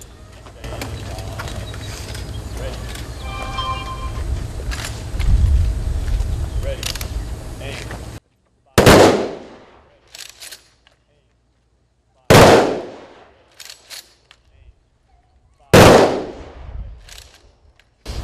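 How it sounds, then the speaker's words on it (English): A rifle salute volley at a national cemetery dedication ceremony: three loud, sharp gunshot volleys ring out several seconds apart, each echoing and decaying into quiet, after a stretch of outdoor ambient noise. "Render the rifle salute."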